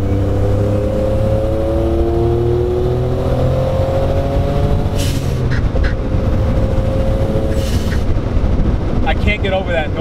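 A turbocharged Suzuki Cappuccino with a big turbo rumbles steadily from behind the cabin, with droning engine tones rising and falling over a constant low roar, heard close and loud from inside the car.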